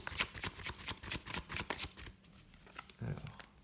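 Tarot deck being shuffled by hand, a rapid run of papery riffles and slaps through the first two seconds, then quieter card handling and a soft thump, close and moderately loud.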